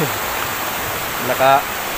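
A clear, cold river runs with a constant rushing, burbling wash close by, and a voice briefly calls out over the water.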